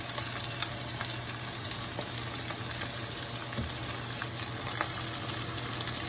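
Pheasant breasts sizzle steadily in a hot frying pan, a dense, continuous crackle of frying meat with small pops, close and moderately loud, with no talking.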